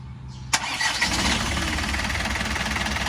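A 1992 Isuzu NPR115 diesel truck engine cranks and fires up about half a second in, then settles into a steady, close, loud idle with a rumbling, knocking texture and no talking.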